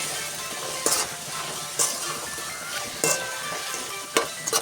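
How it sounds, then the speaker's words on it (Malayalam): Onion, tomato and green chilli sauté in a pan with a constant sizzle, punctuated by four or five sharp metallic clinks and scrapes of a spoon against the pan at roughly regular intervals. "സവോള തക്കാളി പച്ചമുളക് ഇതെല്ലാം നമുക്ക് നന്നായിട്ടൊന്ന് വയറ്റിയെടുക്കാം"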